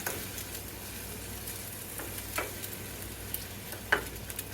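Bacon sizzles steadily in a pan while being stirred, with a few soft scrapes and taps of the utensil over the constant frying hiss.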